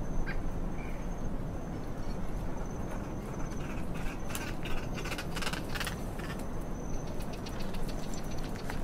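Birdsong outdoors near an open-air shower at the One Tree Island research station, with steady calls and chirps sounding fairly close over a constant low background of wind or surf, no voices.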